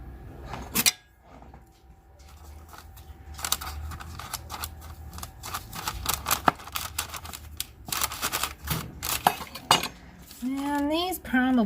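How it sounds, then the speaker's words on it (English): Dough is cut into rounds on a cutting board for pinwheel-style camper wheels. Sharp, close clacks and taps come irregularly with quiet gaps between them, and a brief voice is heard near the end. "I'm going to cut the rest of these up and get them onto a pan"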